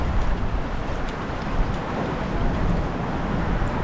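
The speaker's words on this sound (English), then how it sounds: "It's pretty loud out here with the bridge and the waves crashing into the bridge, cars going by" Loud, constant roar of waves crashing against a bridge at night on Tampa Bay, with traffic noise from passing cars blended into a heavy, wind-buffeted rumble.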